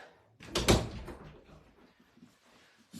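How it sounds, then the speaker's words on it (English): An indoor door is pushed shut with one solid thunk and a brief rattle, close by and moderately loud, followed by quiet room tone. "Just shut this door whilst I'm waiting."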